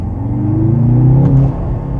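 A 2023 Mercedes-AMG C43 engine revs hard at high RPM on a night drive, a loud, steady, rising growl heard from inside the car with no talking.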